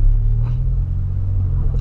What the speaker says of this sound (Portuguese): engata a primeira, vai soltando a embreagem, vai pisando o acelerador bem de levinho e o carro vai andando